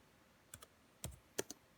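A few light keystrokes on a computer keyboard, four or five quiet clicks in two small clusters, close and alone in a silent room.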